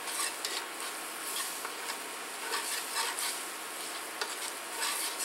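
A spoon stirs gravy made with milk and a can of beef broth in a pan, giving soft, continuous scraping strokes with faint sizzling, quiet and close with no talking.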